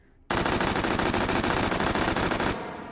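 An H&K MP5 submachine gun fires in the VR shooter H3VR, one loud sustained automatic burst of rapid, evenly spaced shots lasting a little over two seconds, then a short fading tail.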